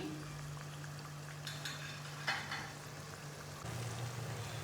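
Potato and onion pakoras fry in oil, a soft, even sizzle with faint bubbling that carries on steadily and quietly in the background, with no speech over it.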